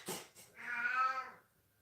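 A cat wanting to go outside gives a single drawn-out, rising-and-falling meow after a couple of brief soft sounds, close and clear in an otherwise quiet room.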